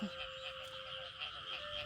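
Frogs croaking steadily in a rural nighttime setting, a dense chorus of repeated calls at moderate distance with no talking.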